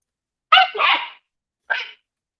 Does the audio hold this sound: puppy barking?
yes